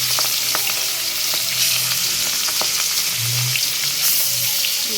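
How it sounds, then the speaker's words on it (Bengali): Fish sizzles and fries steadily in a hot pan, with a loud continuous crackle and occasional stirring clicks, no voices. "মাছগুলো সুন্দর করে ভাজা হোক।"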